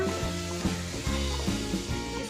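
Pav bhaji masala sizzles loudly in a pan with chopped coriander while a spatula stirs and scrapes it in a steady rhythm of rubbing strokes, heard close with no talking.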